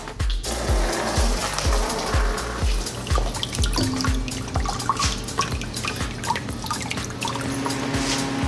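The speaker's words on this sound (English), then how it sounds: "We're ready to start putting some water in this." Water runs into a simple homemade hydrographics dip tank, a steady splashing flow with bright drips and low resonant plunks, close and continuous with no voices.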